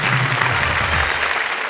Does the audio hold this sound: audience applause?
yes